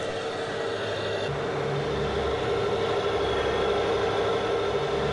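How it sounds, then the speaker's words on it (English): A steady, low car engine rumble idles on without a break, with a broad hiss of noise riding above it, including an unusual sound from the fender, and no voices. "An engine sound that isn't supposed to exist was heard from the fender of the car."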